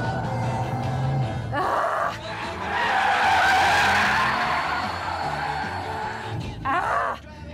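An Audi sliding through a drift challenge on a closed course, tires skidding and squealing in a long continuous howl that swells through the middle, with an engine under it and short bursts of louder tire noise near the start and end.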